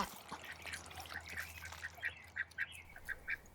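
Ducks on a farm pond giving soft, short quacks that start scattered and then come as a rhythmic run of clipped calls, faint and nearby over a low background hum.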